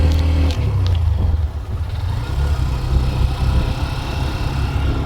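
A motorcycle ridden uphill near the lower dam on a Purulia bike tour to Ayodhya, giving a steady, close engine drone and road rumble that runs throughout without pause.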